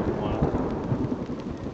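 Heavy rain and a low thunder rumble in the video game Hollowbody, rain pounding on a cracked vehicle windshield as a dense, continuous roar with deep rolling undertones, steady and close throughout.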